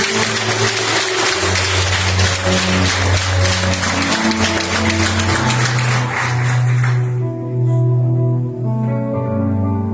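Church congregation clapping at a youth congress, dense rhythmic applause for about seven seconds alongside sustained keyboard or organ chords, then fading out as the music continues alone.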